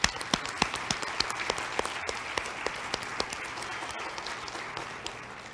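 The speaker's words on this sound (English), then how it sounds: "you deserve a round of applause" An audience at a college career and technical awards day applauds together, a dense wash of many hands clapping with a few sharper individual claps standing out, moderately loud and steady, with no one speaking.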